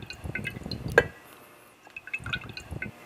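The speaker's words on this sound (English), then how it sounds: "We're going to pour it into the unit and it will work its way through the bed." Oily water poured into a CRP oil water separator unit, faint liquid trickling and dripping in short splashy bursts with a quiet pause between.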